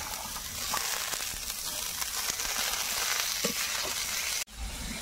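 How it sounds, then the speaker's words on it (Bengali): Chopped potatoes sizzle in hot oil in a pan, a dense, steady frying crackle with faint stirring clicks, cut off briefly by a sharp break near the end before the sizzle resumes. "প্রথমে কেটে রাখা আলু দিয়ে দেব।"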